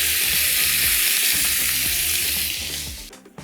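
Prawns fry in a hot pan still coated with cooked hake, giving a loud, dense sizzle with soft stirring taps underneath that fades away near the end; no one speaks.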